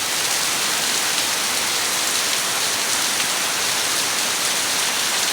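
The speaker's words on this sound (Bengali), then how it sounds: "দেখেন বৃষ্টির পরিমাণ" Steady, dense downpour of heavy rain, a continuous loud hiss of drops with no pauses and no voices.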